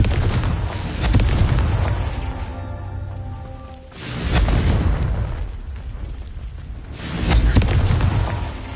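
Confringo fire spells explode during combat in the video game Hogwarts Legacy. Three heavy, booming blasts arrive about every three seconds, each with a rumbling tail fading into crackling debris.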